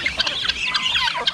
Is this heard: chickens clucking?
yes